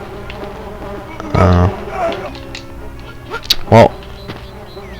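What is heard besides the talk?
bees buzzing in a video game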